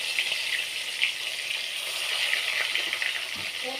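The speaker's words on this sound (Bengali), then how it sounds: "তো পরপর এই মাছগুলো এইভাবে ভেজে নেব।" Katla fish pieces fry in hot oil in a wok with a dense, continuous crackling sizzle and small spitting pops, loud and close throughout with no speech.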